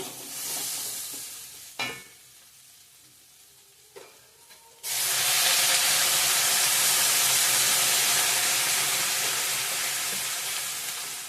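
Ground coriander and other spices stirred in a pan for ghugni, a few scraping clinks, then a loud, steady sizzle and hiss of frying that fills the rest, close and continuous.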